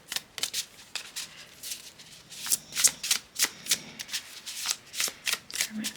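Tarot cards are shuffled by hand in a rapid string of crisp riffling flicks and soft slaps, close and clear, with no voices over them.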